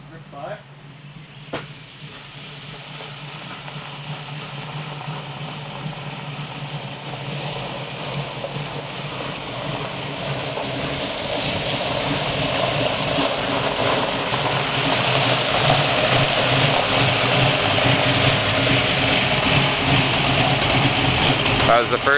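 A small engine on a first ride returns from afar and grows steadily louder and nearer, a continuous broadband roar and hum with a slipping clutch, outdoors against wind or water noise.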